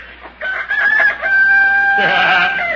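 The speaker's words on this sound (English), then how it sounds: "Good morning, Rooster." A rooster crows once, loud and close, in a vintage radio comedy: a single drawn-out cock-a-doodle-doo that rises, holds a strained high note and trails off, with no other sounds.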